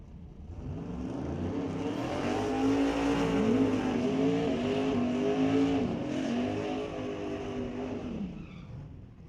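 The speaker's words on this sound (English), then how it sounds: "the final race of the day, the Outlaw 275 final, will pull around to the starting grid" Outlaw 275 race cars idle and rumble as they pull around onto the starting grid, a steady engine drone rising and falling with revs, moderately distant, no voices.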